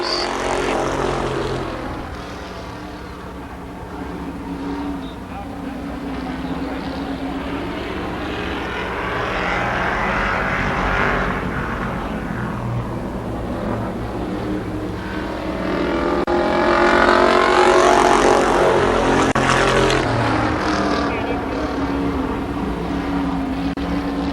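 Race cars roar down the backstretch of Columbus Motor Speedway during a 1993 race, a loud, continuous engine drone that swells and fades as the cars pass, with no talk over it.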